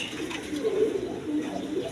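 A female desi Bombay pigeon at a pigeon seller's stall coos in low, rolling murmurs, several soft throaty phrases rising and falling, close and alone with no talk.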